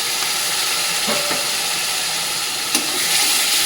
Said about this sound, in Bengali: ভালো করে মশলাটা কষাতে দেবো